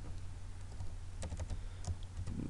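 Typing on a computer keyboard, a quick irregular run of soft, close clicks at low volume with no talk.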